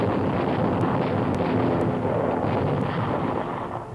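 Heavy gunfire from the German battleship Tirpitz, including 15-inch guns, and RAF bombs exploding around it in a Norwegian fjord during a wartime attack: a loud, continuous roaring rumble of blasts that fades slightly at the end.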